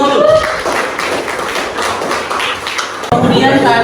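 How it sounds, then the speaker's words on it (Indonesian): Students in a classroom clap together briefly during a thermodynamics lesson, a short rattle of hand claps under the teacher's voice and room noise. "Oke, tepuk tangan dulu sama dulu"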